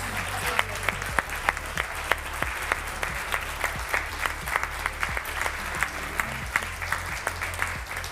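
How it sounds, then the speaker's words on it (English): Sustained audience applause at an esports tournament medal ceremony honoring a Splatoon 3 team, dense steady clapping with scattered louder individual claps, filling the room throughout. "so huge applause to Hardcore Noobs"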